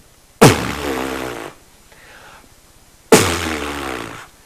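A person buzzing the lips to make a steady drone, two sustained buzzes of about a second each, separated by a pause with soft breath noise, close and fairly loud.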